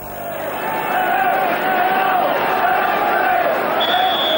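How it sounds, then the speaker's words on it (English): A packed all-ticket football crowd at Brockville stadium makes a sustained din, a dense roar of chanting and cheering with a whistle-like tone near the end. "a crowd that's creating quite a din here"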